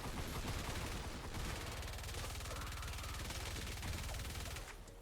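Rapid, sustained automatic fire from the Swan gun in Fortnite Save the World, loud and dense with a steady machine-gun rhythm that runs nearly the whole time before easing at the end.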